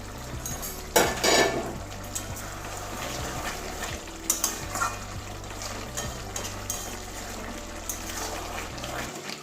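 Bottle gourd cooks in a pan with prawns nearby, giving a soft watery simmer and sizzle under intermittent clinks and scrapes of a utensil against the pan, close and moderately quiet, with a low steady hum underneath.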